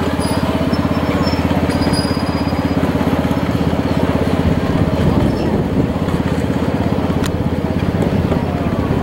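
A Jeep, a Union Pacific diesel locomotive, runs in a steady, loud rumble with a rapid throbbing pulse. The sound continues unbroken the whole time, with faint higher squeals and clicks overhead.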